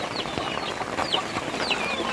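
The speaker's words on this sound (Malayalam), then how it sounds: "എല്ലാ കോഴികളും ഈ ഒരു കൂടിൻ്റെ മേലെ ഭാഗത്തുണ്ടാവും കേട്ടോ" Chickens in a poultry coop cluck and murmur in short, repeated calls against a steady farmyard background, with a few sharper squawks standing out, fairly close and moderately loud, with no voices.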